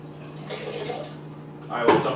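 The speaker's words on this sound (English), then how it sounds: "after I fill this bucket with water" Water runs into a bucket in a steady, hollow rushing splash with a low hum under it, then swells louder toward the end. The bucket is being filled for an ice bucket challenge.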